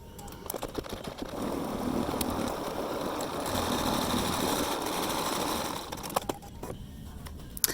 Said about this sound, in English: So let's go ahead and sew out this placement line.